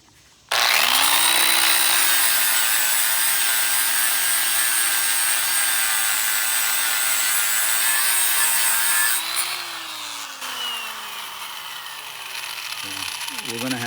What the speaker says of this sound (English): This is a 120 flap disc. Let's see how it does on this crappy paint.